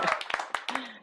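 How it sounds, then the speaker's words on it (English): Several sharp hand claps on a video call, close and irregular, spaced a fraction of a second apart, with a voice briefly underneath. "Yay! I love the clapping."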